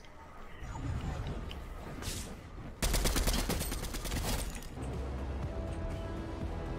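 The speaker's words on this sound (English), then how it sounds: "Oh, shots over there." Video game gunfire in Fortnite, with bursts of rapid shots, loudest in a dense volley around the three to five second mark, set against a steady background of in-game noise.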